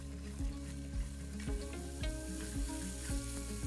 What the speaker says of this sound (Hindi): ये लो जी, दही बराबर भुन गया।